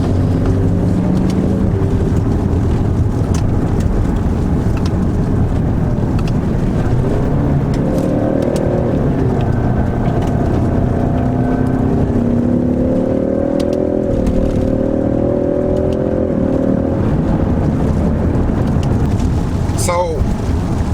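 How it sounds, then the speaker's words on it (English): A 2018 Ford Mustang EcoBoost Premium's turbocharged engine drones steadily from inside the car, with a rising and falling whir of turbo noise running throughout and a person talking over it. "I love turbo noise"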